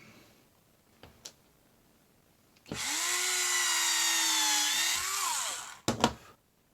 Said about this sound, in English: Just going to very carefully take my drill